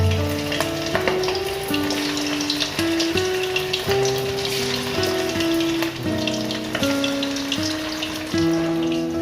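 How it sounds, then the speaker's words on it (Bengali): Pieces of chicken manchurian fry in hot oil, a dense steady sizzle with bubbling crackle and occasional stirring clinks, close and continuous with no speech. "তেলে এগুলো ফ্রাই করব।"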